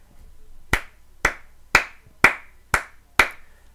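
Six sharp, evenly spaced hand claps ring out one after another, a slow deliberate clapping rather than a crowd.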